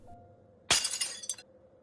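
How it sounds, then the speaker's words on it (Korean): A mirror shatters in one loud, close crash of breaking glass, followed by a second of scattering, tinkling shards with a smaller clink near the end; no voices. "거울이 깨졌다. 내가 깨뜨렸다."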